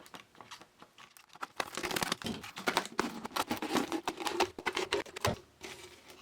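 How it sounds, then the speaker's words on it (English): Scissors snip the top off a plastic bottle, giving a quick series of close crackly cuts and crinkles with no talking. "use a pair of scissors to cut the top off"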